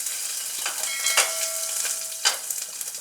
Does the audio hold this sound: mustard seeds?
yes